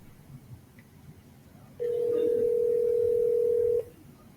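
A telephone call is placed, and a single steady electronic tone sounds for about two seconds over a quiet room, then cuts off abruptly.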